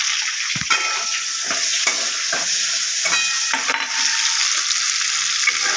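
Onions frying in a wok with green chilli and nigella seeds, a steady close hiss of sizzling oil broken by repeated short scrapes of stirring, no voices.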